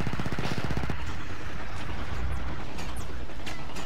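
Blaster fire in a modded Star Wars Battlefront 2 match on Kashyyyk, with a rapid burst of shots at the start, then dense battle noise and scattered distant bolts throughout.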